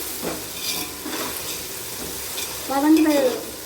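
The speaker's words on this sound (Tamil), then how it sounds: "சேர்த்து தக்காளி நல்லா வதங்கணும்." Chopped tomatoes sautéing in a pan for mutton biryani: a constant soft sizzle with recurring scrapes of stirring and a brief tonal squeal near the end, heard up close.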